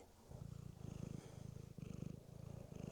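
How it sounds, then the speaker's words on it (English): A cat purrs softly close to the microphone, in a steady rhythmic rumble of repeated in-and-out breaths with a brief pause midway, quiet and alone. "It's my cat."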